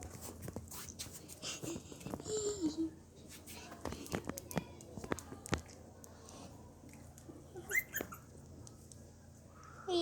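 A small puppy whimpers and whines in short, soft bursts, with a few faint yips, fairly quiet and close, while people talk intermittently nearby.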